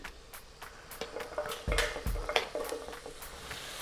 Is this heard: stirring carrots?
yes